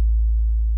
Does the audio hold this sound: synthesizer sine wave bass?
yes